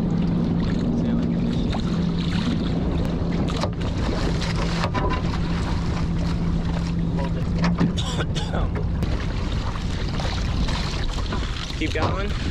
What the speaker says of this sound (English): Let me bear away and get up to sailing.